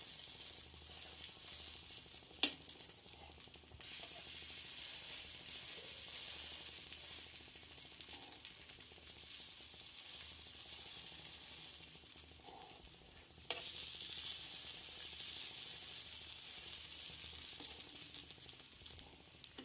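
Stuffed eggplant fries in a pan over low gas, a steady hiss of sizzling oil with a couple of sharp clicks and a brief rise in intensity partway through, close up and without speech.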